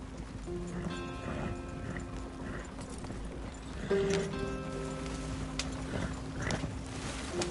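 A horse trots and gallops in Red Dead Redemption 2, hooves clip-clopping in a steady rhythm close by with faint background game sounds.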